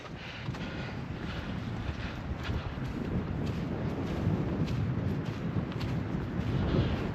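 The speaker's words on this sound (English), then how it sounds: "it's a bit on the windy side up here" Steady rushing wind buffets the microphone with a constant low roar that builds slightly toward the end, high up on Spain's north coast in Llanes, Asturias; no voices, just continuous gusty noise.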